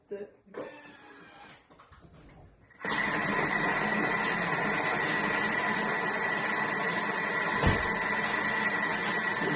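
Thermomix food processor running at speed 4 with bananas, switching on abruptly after some quiet handling noise and then holding a loud, steady whirring roar to the end; a voice speaks at the start.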